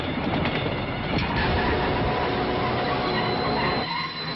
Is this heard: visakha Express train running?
yes